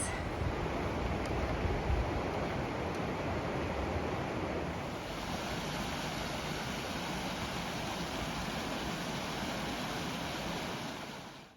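River water flows at a broken bridge crossing on the Pacific Crest Trail, a steady, broad rushing wash heard close and continuous, with wind mixed in.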